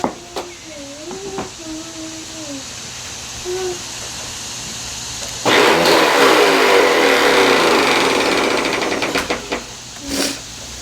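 An upright household vacuum cleaner, a Hoover, Bissell or Eureka, switches on partway through and runs as a loud, steady motor roar. Brief voices and handling sounds come before it starts.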